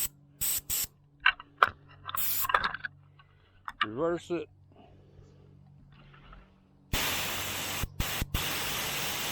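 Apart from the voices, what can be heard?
airless paint sprayer spraying through tip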